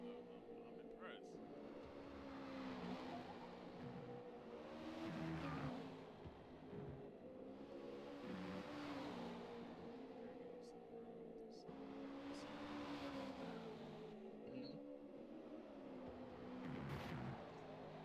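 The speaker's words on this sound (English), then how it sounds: "Just listen to the Mustang just roll through gears." A Ford Mustang in the racing video game Forza revving and climbing through successive gears, engine pitch rising and dropping at each shift in repeated waves, with a commentator talking over it.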